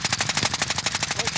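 Rapid automatic gunfire in an online shooter video game rattles off as a fast, even burst of about a dozen close, loud shots with no pause.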